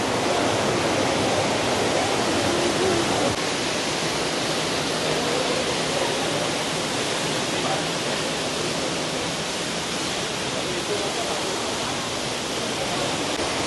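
A waterfall with very clear water, restaurant tables set up right inside it, rushes in a steady, dense roar that stays loud and unchanging throughout, with no pauses.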